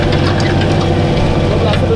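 A heavy Ursus tractor engine rumbles steadily and loudly up close during cultivation, a constant low idling drone with no pauses.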